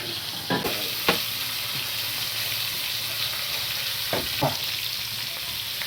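Sona bogo fish frying in oil at an outdoor picnic, a steady loud sizzle with a few sharp clinks and scrapes of a utensil against the pan, no voices.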